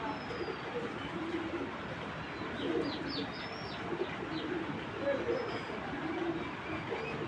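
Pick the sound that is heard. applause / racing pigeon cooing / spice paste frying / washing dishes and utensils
racing pigeon cooing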